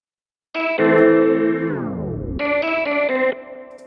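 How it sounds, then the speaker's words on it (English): A synth one-shot rings out after brief silence, its pitch sliding down, then a second bright stab follows, both trailed by delay echoes and reverb. "Like I've added some delay and reverb to this."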